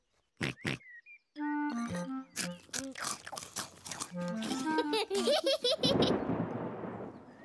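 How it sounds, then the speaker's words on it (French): Cartoon thunder rumbles in the distance near the end, a broad noisy roll following a stretch of animated character voices and bright musical tones. "C'était le tonnerre, Peppa."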